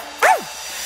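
A single short dog bark or yip in a children's cartoon song, one bright falling cry rising clearly above a quiet background.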